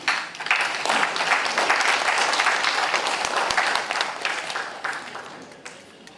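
An audience applauds after a medical talk on paediatric HIV, a dense wash of clapping that swells quickly, holds for several seconds and then tapers off.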